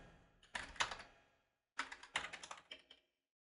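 Two quick bursts of typing on a computer keyboard, light clicking keystrokes close up with a short pause between, quiet and alone.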